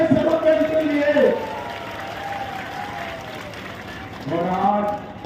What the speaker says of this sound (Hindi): जोर से ताली बजाइए सरोज के लिए